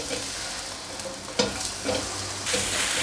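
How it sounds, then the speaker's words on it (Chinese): Mushrooms stir-fried in oil with black peppercorns and salt, a dense, continuous sizzle with a few sharper scrapes of the spatula, close and without talk. "锅内放入适量的油，放入蘑菇进来炒"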